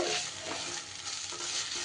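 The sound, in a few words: pumpkin leaves with onion and garlic being stir-fried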